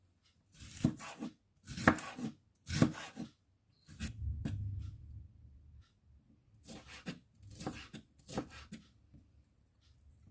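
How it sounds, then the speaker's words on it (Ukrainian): A knife slices half a bell pepper into strips on a board for a warm eggplant and chicken salad, giving close, crisp cutting strokes in short rhythmic bursts separated by brief pauses, with no talking. "Я беру пів перчинки. Ось так і теж нарізаємо смужками."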